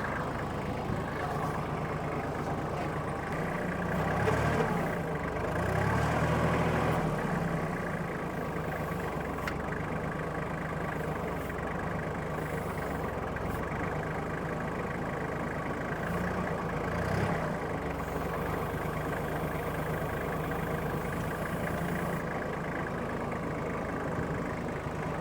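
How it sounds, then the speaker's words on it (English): A 12-valve Cummins diesel tractor engine runs steadily at a low idle-like drone for a long stretch while straining to lift, with a few slight surges in effort and no talking. "The tractor doesn't want to lift up."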